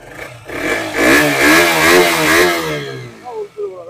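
A 2020 BS4 125cc motorcycle engine revs up close and loud, the pitch climbing and holding in a throaty surge before dropping back toward a rough idle.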